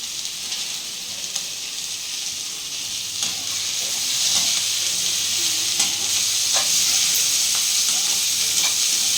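Tomatoes and green chillies sauté in a home-cooking pan for poori kilangu, giving a steady, close sizzle and hiss that runs throughout with slight swells and no voices.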